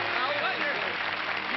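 Studio audience applause at a classic television show fills the space with dense, steady clapping from many hands, holding at an even level for the whole stretch.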